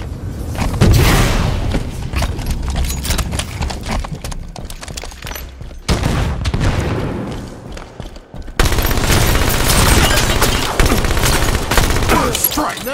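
Gunfire and explosions in a Halo 5 Beta multiplayer round: loud, dense bursts of shots and booms that continue throughout, with a brief drop-off near the middle before the firing returns at full intensity.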